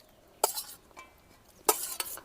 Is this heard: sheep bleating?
no